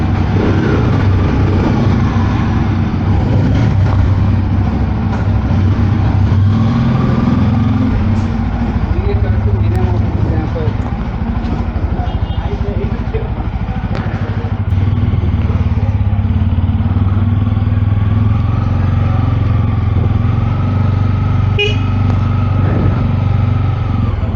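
A 2024 Bajaj Pulsar N250 motorcycle engine runs steadily with a deep, throaty, bassy exhaust rumble throughout, loud and close, with a voice talking over it at times.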